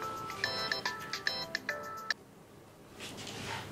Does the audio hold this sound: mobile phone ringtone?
yes